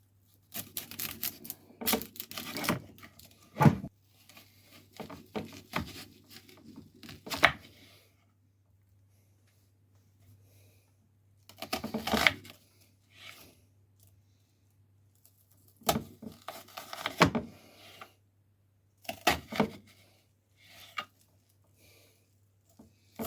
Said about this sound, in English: Next, we're going to cut up this onion and use about half of it.